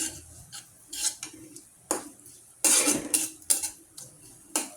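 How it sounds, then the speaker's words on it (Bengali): Sliced onions for chola bhuna being stirred and browned in a pan: repeated scraping strokes of a spatula against the metal, with one longer loud scrape in the middle and a faint sizzle underneath. "এভাবে নেড়ে নেড়ে লাল করতে হবে।"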